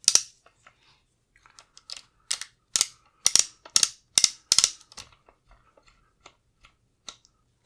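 Beretta AR70/90 rifle barrel being threaded on by hand, a run of sharp metallic clicks and ratcheting taps, close and uneven, clustered in the middle then thinning out amid quiet.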